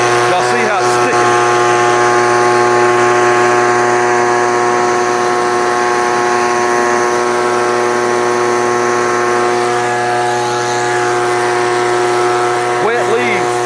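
A Proyama handheld leaf blower runs continuously while blowing wet leaves, making a loud, steady, whining motor drone with strong constant harmonics for the whole stretch.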